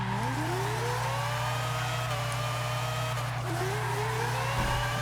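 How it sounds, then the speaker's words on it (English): A high-revving four-rotor engine in the racing video game Forza, a Mazda RX7 FC, whines continuously, pitch climbing and dropping through gear changes, loud and steady with a buzzy electronic tone. "as much as I don't like the way the four rotor sounds in this game"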